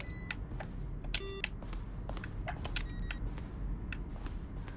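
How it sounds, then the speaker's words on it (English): Office computers in The Stanley Parable give off scattered short electronic beeps and bleeps, faint and irregular over a low steady room hum. "Office computers."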